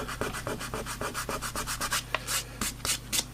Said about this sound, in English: So if I come to rub this, like that